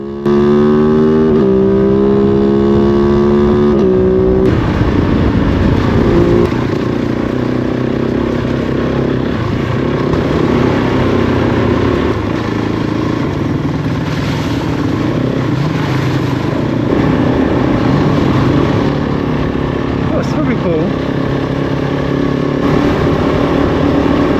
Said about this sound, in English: to me it sounds exactly like how a rally bike should sound, especially in conjunction with the Cooper quickshifter